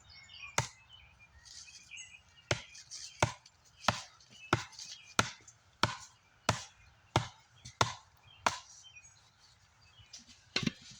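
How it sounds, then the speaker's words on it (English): Tomahawk chopping into green wood to split it, a dozen or so sharp woody thunks at an uneven pace, fairly close, with birds chirping faintly in the background outdoors. "I split this, and it's green, so it's not wanting to come apart."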